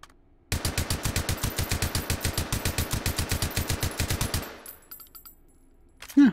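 A suppressed automatic weapon in the VR shooter Hot Dogs, Horseshoes & Hand Grenades fires one steady burst of about thirty rapid, evenly spaced muffled shots. Faint mechanical clatter follows, and the clip ends on a short loud thump.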